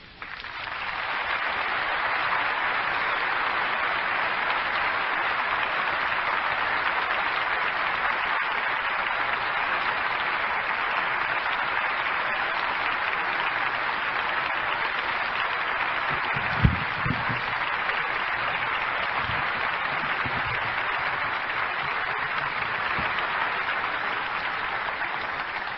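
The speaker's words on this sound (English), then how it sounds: "I know you feel assured by that applause how much we deeply appreciate your being with us" Sustained applause from a large audience follows a religious talk, a steady dense wash of clapping that holds evenly for the whole stretch with no talking over it.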